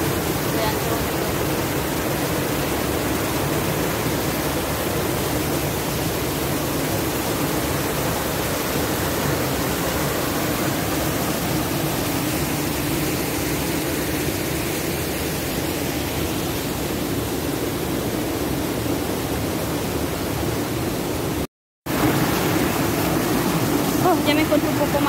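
Deep, fast-flowing current of the La Laja river, a dense, constant rush of water filling the whole stretch at close range, steady and loud with one brief dropout near the end.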